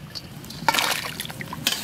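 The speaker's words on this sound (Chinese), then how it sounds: "捞出来，捞到凉水盆里再洗一下" Boiled chicken feet being rinsed by hand in a basin of cold water, with soft sloshing and trickling splashes in a short burst, close by and fairly quiet, with no talking.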